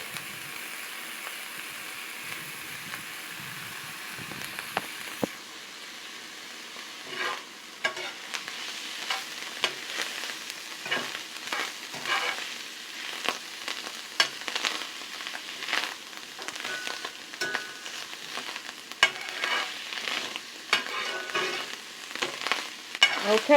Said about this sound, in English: I'm going to squeeze in the moisture, and throwing it right in the pan.